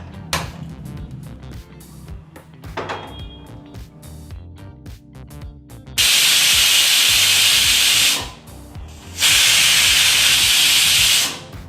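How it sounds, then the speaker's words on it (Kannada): A pressure cooker cooking avarekalu masala saru gives off two long, loud bursts of hissing steam, each lasting a few seconds with a short gap between, after scattered kitchen clatter and quieter cooking noises. "ಬನ್ನಿ ಈಗ ಕುಕ್ಕರ್ ಲಿಡ್ನ ಕ್ಲೋಸ್ ಮಾಡಿ ನಾವು 2 ವಿಸಲ್ ಬರೋವರೆಗೂ ಕೂಗಿಸ್ಕೊಳ್ಳೋಣ"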